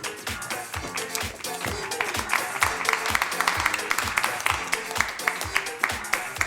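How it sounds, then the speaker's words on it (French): Audience applauding at an improv comedy show in a cultural centre in Seraing, a dense sustained round of clapping from a crowd that stays fairly even and loud for several seconds. "Je vous demande un tonnerre d'applaudissements pour Thierry!"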